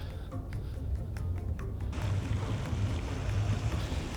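A 2021 Honda Ridgeline Sport AWD pickup strains to pull out of snow, with a steady low engine drone and rumbling tires that swell after a couple of seconds into a louder, rougher churn, heard up close with no voices.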